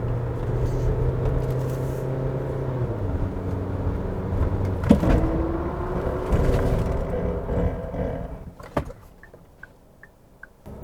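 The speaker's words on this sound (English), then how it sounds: "now let's go out and check out the braking performance then" A 2022 SsangYong Musso pickup truck speeds up with a rising engine hum, then brakes hard to a stop. Tyres and chassis rumble loud and close, fading into quieter idle with a few clicks at the end.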